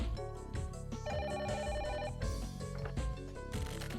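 A telephone rings in a mystery adventure game, an electronic ringtone repeating in short bursts over game music, clear and up front.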